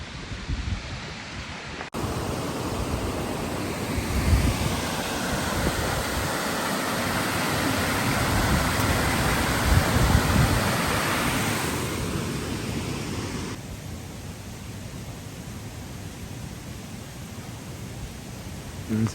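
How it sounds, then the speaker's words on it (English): A waterfall in the Pentland Hills on a winter day, with steady broadband rushing water pouring continuously and filling the scene, loud and close with a slight swell midway and no voices. "It's in quiet, that sound of waterfall."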